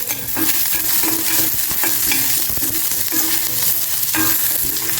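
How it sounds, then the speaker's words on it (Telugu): Green and dry red chillies frying in a pan for a sweet potato chutney, a close, steady sizzle broken by repeated scraping stirs, no voices. "ఇవి కొంచెం వేగిన తర్వాత ఒక రెండు ఒక మూడు పచ్చిమిర్చి చేసుకోండి ఒక నాలుగు ఎండుమిరపకాయలు వేసుకోండి"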